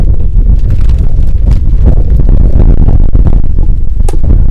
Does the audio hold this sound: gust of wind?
yes